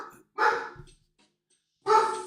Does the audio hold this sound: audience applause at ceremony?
no